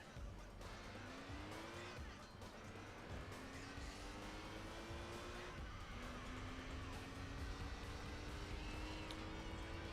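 A truck in a PS2 racing game drives on, its engine droning steadily and climbing in pitch through repeated gear shifts, with faint tire noise, quiet and continuous throughout.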